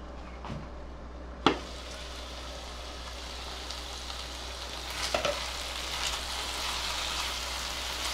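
Red pumpkin soup simmers in a pot with a steady soft bubbling hiss, broken by a few sharp knocks and scrapes of a spoon as it is stirred, close and without any talking.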